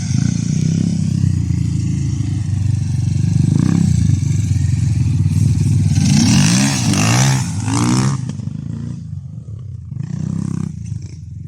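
A Loncin 150 motorcycle sets off and rides on a jump track, its engine revving loudly and steadily up close, rising and falling through a run of gear changes before easing off with a few further throttle bursts.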